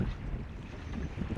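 Strong wind buffets a fishing boat at sea, giving a continuous low roar and rumbling gusts close to the microphone with no voices.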